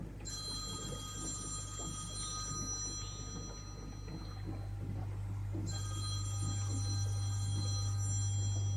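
A telephone rings with an incoming call in a home where an aquarium with neon tetras is being set up; two bursts of ringing sound faint and distant over a steady low hum of aquarium equipment.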